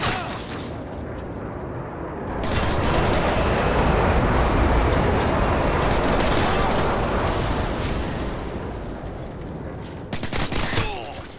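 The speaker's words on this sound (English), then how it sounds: "Airstrike inbound." Airstrike explosions in Call of Duty Modern Warfare 2, a long rumbling roar of blasts swelling and fading over several seconds, followed by a few sharper gunshot cracks near the end.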